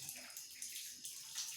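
During ablution (wudu), water runs from a tap in a faint, steady hiss and splash that continues without a break, with no clear speech over it.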